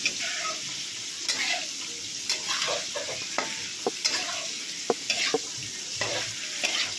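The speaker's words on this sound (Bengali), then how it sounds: "আবারও ভালো করে মশলার সাথে সবজিগুলোকে কষিয়ে নেওয়া হবে" Fried vegetables being stir-fried with spices in a pan, a constant sizzle broken by regular scraping strokes and light clinks of the spatula, close up.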